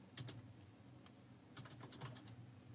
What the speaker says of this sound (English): what you're watching is just somebody typing.